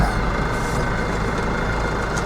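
Snow removal loader's engine idling on a Canadian street among parked cars, a steady low diesel rumble held close and continuous with no breaks.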